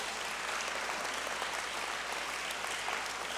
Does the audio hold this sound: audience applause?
yes